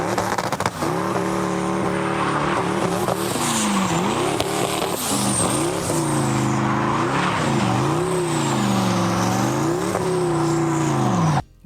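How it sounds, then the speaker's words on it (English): A powerful sports car spins donuts, its engine wailing and rising and falling in repeated revving sweeps with tire squeal over a loud continuous roar, close and sustained throughout with no speech. "he can do some amount of donuts in this thing"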